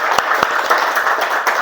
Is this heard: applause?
yes